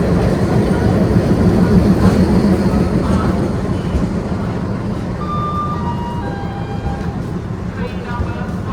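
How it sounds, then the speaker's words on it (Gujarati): A double-decker passenger train pulls into a platform at Ahmedabad with a loud, heavy rumble that gradually eases, followed by faint tonal squeals as it slows, amid station ambience. "આ ટ્રેન આપણી આવી ગઈ છે"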